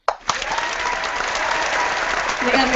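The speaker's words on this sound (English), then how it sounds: "Give a clap for that" After a sharp opening hit, a small group bursts into sustained, close applause mixed with cheering, and the clapping continues strongly for nearly three seconds.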